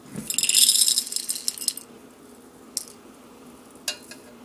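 Spoon scooping loose shot into an empty 20 gauge shotgun shell, giving a close, loud metallic rattle and pour at first, then a few isolated clinks.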